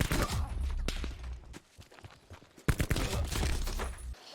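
Rapid bursts of video game gunfire crackle across the clip, dense and loud, with a short lull in the middle before another volley.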